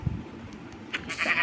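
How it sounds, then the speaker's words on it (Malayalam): A goat in the video game Minecraft bleats briefly near the start, followed by a few short game sound effects against a quiet background. "ഐഡിയ ആടല്ലേ അത്? ആട്ടുകൊമ്പ."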